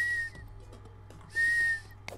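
A voice imitates the whistle of a stuffy nose: two thin, steady high whistles, each under half a second, separated by a short pause, with faint breathy noise and a small click near the end.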